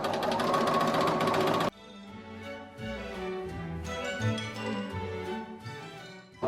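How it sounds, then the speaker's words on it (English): A sewing machine base-stitches along a men's shirt piece being remade into a pinafore dress, giving a fast, dense, steady whir for under two seconds before stopping abruptly, then quieter low tones continue. "Base stitch all along until the very end"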